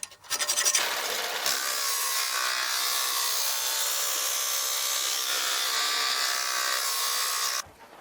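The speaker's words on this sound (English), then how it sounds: "I use a half round file to do the inside curves." A half round file rasps along the inside curves of a steel sawblade being shaped into a parang, one long continuous loud scraping stroke that holds steady for several seconds, close up and without speech.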